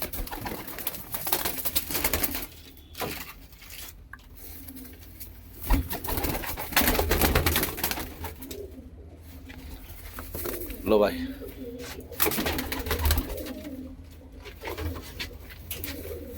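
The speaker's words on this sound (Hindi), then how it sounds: "लाल चीना कबूतर" Lal cheena pigeons, a red breed with white eyes, cooing in soft repeated calls among other birds, with wing flaps and handling noises nearby while someone talks over them.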